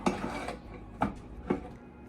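A metal baking pan pulled from an air fryer, with three distinct clattering scrapes of metal against metal spaced about half a second apart, close and moderately loud, with no talking.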